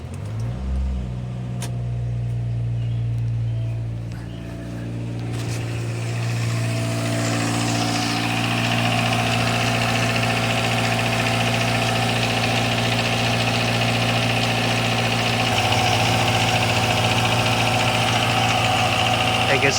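A Daihatsu Mira engine starts from cold after valve cover gasket work and settles into a steady, close idle, its low rumble continuous with some rising mechanical clatter over about twenty seconds.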